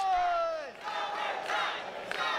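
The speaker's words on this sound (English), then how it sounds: "the crowd trying to rally her" A wrestling crowd at a live match shouts and cheers in rising bursts to rally a fading wrestler, a broad wall of voices swelling and ebbing, with a single sustained yell at the start.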